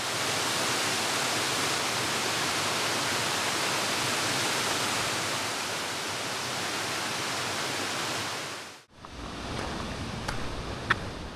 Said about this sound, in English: A 40-foot waterfall blasting in front of you.